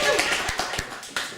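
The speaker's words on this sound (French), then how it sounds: "on applaudit Cécile" A small group claps at an evening meeting in Vendée, a few scattered, uneven hand claps mixed with nearby chatter and voices.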